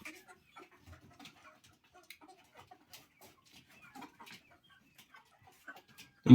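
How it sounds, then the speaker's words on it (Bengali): Tiger breed chickens on a poultry farm give soft, scattered clucks and short calls, faint and spread out over a quiet background, with a louder burst right at the end. "টাইগার মুরগিগুলো দেখাই।"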